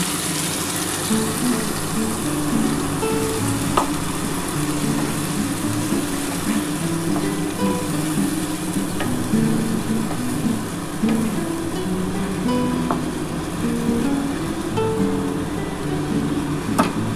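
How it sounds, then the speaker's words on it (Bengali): Water poured into a pan of fish and potato curry sets off a steady, close sizzle and bubbling hiss that holds evenly throughout, with faint clinks and stirring underneath. "এবার আমি জল দিয়ে দিচ্ছি।"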